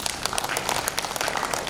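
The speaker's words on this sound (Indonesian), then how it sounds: "Tepuk tangan yang keras." A church congregation at a senior community service applauds, a dense, fairly quiet patter of many hands clapping continuously through the short moment without any other sound on top.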